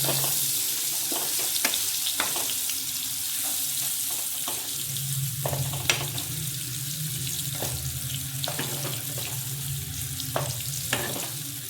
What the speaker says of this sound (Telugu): నూనె మంచిగా వేడయ్యాక టోఫుని ఇందులో వేసుకోవాలి. లైట్గా డీప్ ఫ్రై చేసుకోవాలి.